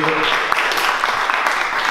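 Applause from a conference audience, a dense patter of clapping with voices mixed in throughout.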